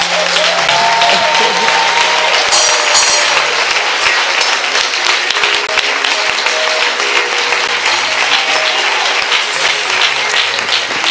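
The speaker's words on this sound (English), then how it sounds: "give God a big hand of applause" Congregation applause at a church service fills the whole stretch, steady and loud throughout, with scattered cheers rising over the clapping.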